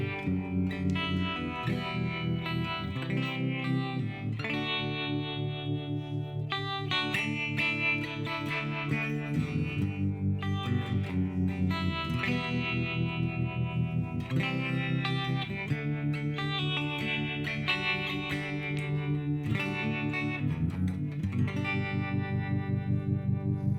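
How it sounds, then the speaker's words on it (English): Electric guitar played through a Fender Mustang Micro's harmonic tremolo and reverb effect, a continuous phrase of chords and notes with a pulsing, wavering tone and a washy tail. "And next we have harmonic tremolo and reverb."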